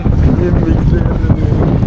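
Strong wind roaring and buffeting close by, a steady loud rumble throughout.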